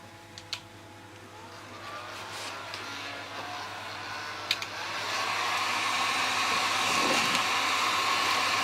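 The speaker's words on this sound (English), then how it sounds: "what we need to do is put a heat gun on that" Heat gun blowing on PVC pipe to soften it for bending, a steady airy roar that swells louder partway through and holds, with a few faint clicks early on; no talking.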